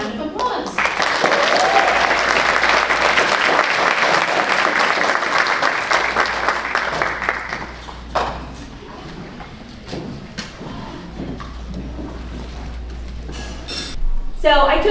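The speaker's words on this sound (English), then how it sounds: "Please join us and give Michelle a warm welcome and round of applause." A conference audience breaks into loud applause welcoming a speaker. The clapping lasts about eight seconds, then fades as a voice begins talking.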